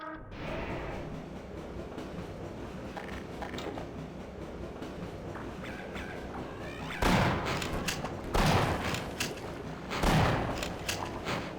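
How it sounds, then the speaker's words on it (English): A train in the video game Half-Life, heard as a steady mechanical rumble and rattle of rolling cars, broken by several loud, sharp metallic bursts in the second half. "Ah, cool, a train."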